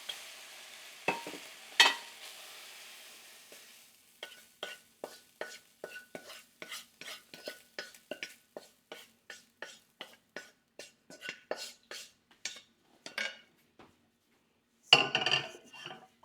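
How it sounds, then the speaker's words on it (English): Sugar caramelizing in a pan for Thai sakoo sai moo (tapioca dumplings with pork): a quiet stretch, then a steady run of about twenty rhythmic scraping stirs against the pan over a faint sizzle, ending in a short clattering burst. No one speaks. "I'm gonna caramelize it, the sugar part."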